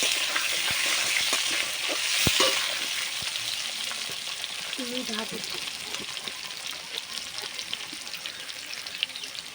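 Steady sizzle of fish curry frying in a pan with bay leaves and potatoes, a spoon stirring through it, close and continuous, with a faint voice briefly in the background.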